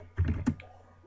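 A few quick keystrokes on a computer keyboard, two soft clustered taps close together, faint and close with a low background hum.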